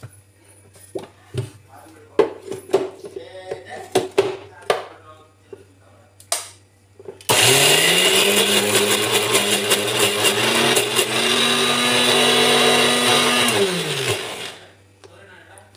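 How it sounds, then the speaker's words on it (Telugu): A kitchen mixer grinder whirs steadily for several seconds as it grinds soaked black gram into a smooth batter, starting abruptly after scattered clatter and winding down at the end. "మిక్సీ అయితే పట్టుకుంటున్నా."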